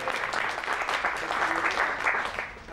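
Wedding guests applaud at a reception during the speeches, a dense, sustained burst of clapping from a crowd filling the room steadily for a few seconds before easing slightly at the end.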